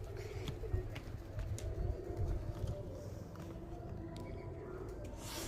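Pigeons at a loft coo in low, throaty murmurs beneath a continuous outdoor wash, with faint chirps and scattered soft flutters, heard from nearby.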